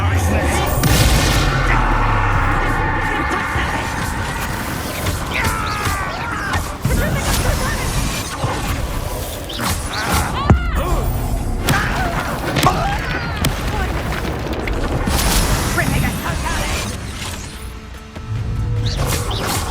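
Confringo blasting-curse explosions in the video game Hogwarts Legacy, loud booming blasts and crashes layered over dense game music and effects, with a sharp impact near the middle.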